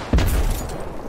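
Gunfire in a multiplayer shooter video game: a sudden loud burst at the start, then a dense, sustained rumble of shots and booms that continues at a steady level to the end, with no talk.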